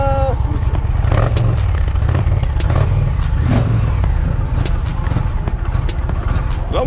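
Harley-Davidson motorcycle engine revving at a street gathering, a loud throaty rumble with repeated throttle blips and crackles, while people talk nearby.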